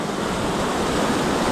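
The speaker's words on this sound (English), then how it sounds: "Looking at this beautiful little waterfall." A small waterfall at Lake Arrowhead pours steadily in a broad, continuous rush of splashing water, loud and near with no pauses or voices.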